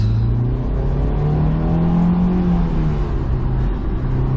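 A 2007 Honda S2000 AP2 pulls hard in second gear, its engine note rising steadily in a strong, close, continuous rev with a slight dip near the end, no talk.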